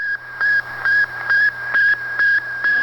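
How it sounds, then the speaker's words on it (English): The Sputnik satellite's beeping comes through shortwave radio static, six even, loud tone pulses repeating about twice a second over a constant hiss and hum. "Its flea-powered transmitter, undoubtedly powered by enslaved Soviet fleas, bleeped through the static as it passed overhead."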